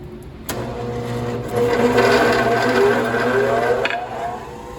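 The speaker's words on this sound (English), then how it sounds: "So now we can go over to the disc sander and sand this down." A disc sander spins and sands a wooden letter-I shelf piece cut for a mirror, a steady loud motor hum with a rasping grind that swells as the wood is pressed against the disc.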